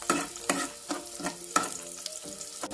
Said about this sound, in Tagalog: Igisa tayo ajay pinapa na